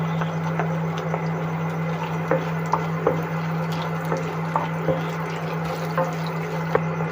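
Chopped coconut pieces fry in hot oil with scattered small pops and crackles over a steady low hum.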